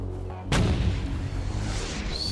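Gunfire in the first-person shooter Far Cry 4: a heavy boom strikes loud and close after a quiet start and rolls into a sustained roar. A thin high tone rises near the end, and no one speaks.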